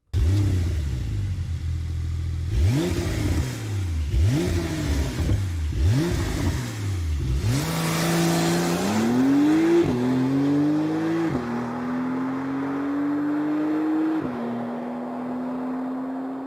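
A 2022 Porsche 911 Carrera GTS engine with sport exhaust revs hard several times with crackling exhaust, then climbs through gears and settles into a steady high drone, loud and close.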